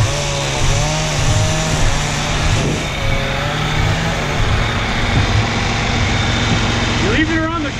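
A grinder runs loud and steady while cutting trees at a ranch, its engine droning with rising and falling pitch, close by, with a voice briefly heard over it.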